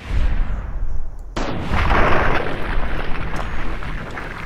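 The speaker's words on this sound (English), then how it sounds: "Explosion!" Explosion and gunfire in Fallout: New Vegas with the Project Nevada mod: a loud, sustained wall of rumbling blasts and shots, with a sharp new burst partway through followed by continuing roar, heard alone without talk.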